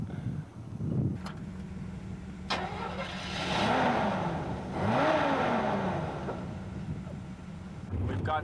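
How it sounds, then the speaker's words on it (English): A vehicle engine starts and runs to scare off a black bear during an overland expedition from the North Magnetic Pole to the South Pole, with a steady mid-range motor hum and voices in the background. "starts the engine to scare the bear away because the animal is trying to join the team"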